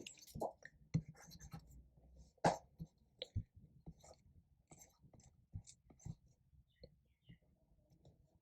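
Writing on a board during a lecture gives sparse, close taps, scratches and short strokes, irregularly spaced and separated by quiet gaps, with no talking.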